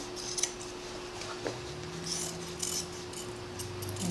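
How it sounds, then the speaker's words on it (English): Scissors cutting off the old hem of denim jeans, a few faint crisp snips and rustles spread across a quiet room with a low hum in the background. "I'll just cut that off."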